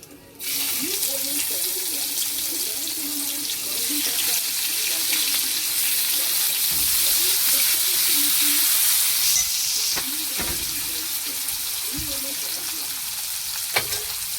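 Chopped onions hit hot oil already tempered with spices, setting off an immediate loud, hissing sizzle that stays strong and steady. Occasional utensil knocks and a faint voice sit underneath.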